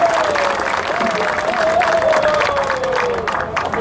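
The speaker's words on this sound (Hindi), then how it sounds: "आप सब एक दूसरे के लिए तालियां बजाएं" Audience applause at a T-20 cricket prize distribution ceremony, a steady dense wash of clapping throughout, with a voice speaking over it.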